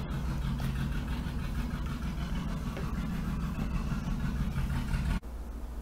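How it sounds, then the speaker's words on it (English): A motorcycle outside running nearby, a continuous loud low engine rumble that holds steady and then drops off abruptly near the end. "That's someone's motorcycle."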